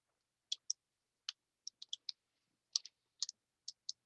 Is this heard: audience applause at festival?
no